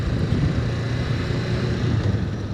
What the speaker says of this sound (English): holding in my clutch, feathering out my clutch right now and giving a little gas